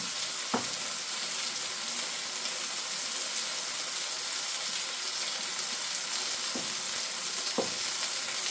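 Red wine and mushroom gravy sizzling and bubbling in a pan while being stirred, a steady close hiss with a few brief scrapes of the utensil against the pan.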